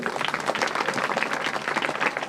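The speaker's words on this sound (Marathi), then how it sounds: "एकदा टाळ्या वाजवा अध्यक्षांसाठी" Steady audience applause at a school get-together, dense continuous clapping from a crowd, fairly loud and even throughout with no voices on top.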